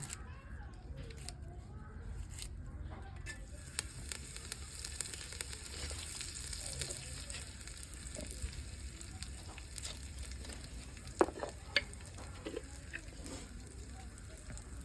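A masala dish cooks on a low flame with a faint, steady sizzle, broken by scattered small clicks and ticks from the pan.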